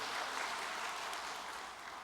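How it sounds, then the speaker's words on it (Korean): Audience applause at a church gathering, a steady dense clapping that fills the room evenly for about two seconds with no voices on top. "3주 만에 단상했었더니 박수도 쳐주시네요"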